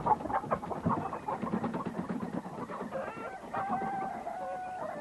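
Chickens cluck in a busy, irregular series close by, with a rooster crowing partway through, all loud and without any voices.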